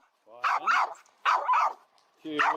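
A dog barks in muffled bursts while holding a stick in its mouth, three or four close, strained yips and woofs in quick succession.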